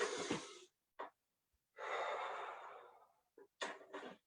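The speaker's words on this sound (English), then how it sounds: "Deep breath again." Deep breaths taken during a rest in a HIIT exercise session, long airy inhales and exhales separated by short silences, with a couple of brief sniffs, close and fairly quiet, no talk.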